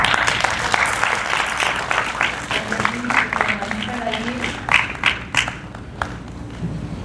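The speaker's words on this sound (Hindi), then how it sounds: "आपकी तालियों की गड़गड़ाहट ये बता रही है कि आप सब लोगों को ये कहानी बहुत पसंद आई" Audience applause in a hall after a staged performance of a story, a dense wash of clapping with scattered sharper claps that thins toward the end, with faint voices underneath.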